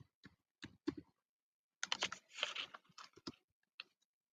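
Computer keyboard typing while writing SQL, quiet close keystrokes in short irregular clusters with brief pauses between bursts and no voice over them.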